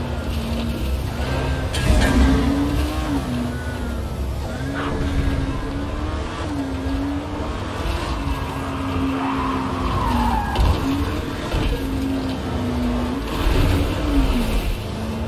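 A car driven and skidding in the video game Dying Light, its engine droning and shifting pitch beneath repeated long tire squeals and skids, loud and close, with no talk over it.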